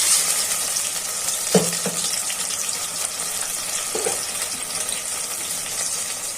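Spices fry in a pan with a splash of water after onions, a steady sizzle running throughout with a couple of stirring scrapes and knocks.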